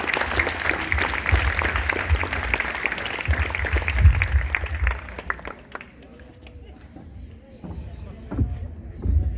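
An audience at a school diploma ceremony applauding loudly and steadily, the clapping fading after about five seconds into quieter murmuring and chatter.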